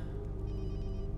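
Telephone ringing in the video game Watch Dogs 2: a steady, continuous electronic ring tone held at a constant level over a low hum, with no talk.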